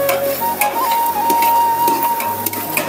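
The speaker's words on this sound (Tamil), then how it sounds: "இஞ்சி பூண்டு பேஸ்ட் இதில் போட்டு நல்லா வதக்கிடலாம்" Ginger garlic paste sautéing in oil in a pan crackles with a steady, close sizzle, broken by soft scraping stirs, while a thin, high whine runs through most of it.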